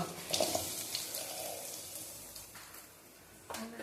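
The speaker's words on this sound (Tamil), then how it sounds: "பொடிசாக நறுக்கி வச்ச வெங்காயத்தை அதில் சேர்த்து" Finely chopped onions sizzle in hot oil in a pan with whole spices, a soft continuous crackle with occasional stirring scrapes, fairly faint and close.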